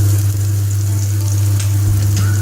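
Lobster fried rice sizzles steadily in hot oil with spring onions, Cajun seasoning, salt and garlic powder, a loud, close, continuous frying hiss with a low steady hum beneath and no talking.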